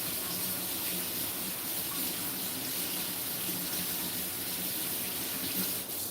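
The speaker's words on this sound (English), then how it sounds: "hot scalding water." Hot, scalding water runs from a kitchen tap in a steady, hissing stream, close and even for several seconds, with no voices over it.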